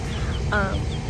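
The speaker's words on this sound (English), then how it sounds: "I am raising chickens, so if you guys hear like a bunch of like chirping in the background" A brief high chirp of baby chicks stands out from a noisy, crowded background, with fainter peeps scattered around it.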